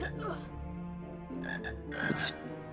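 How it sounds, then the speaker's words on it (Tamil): A frog croaks in the Harry Potter and the Sorcerer's Stone video game, giving several deep, clear croaks close by, with a few brighter sounds near the end. "எங்க தவளை தவளை குதிக்குது பாருங்க."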